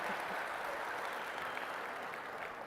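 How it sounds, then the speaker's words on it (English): An audience at a steelworkers' safety conference breaks into applause, a dense, even patter of many hands clapping steadily from start to finish with no voices on top. "That gets the biggest applause"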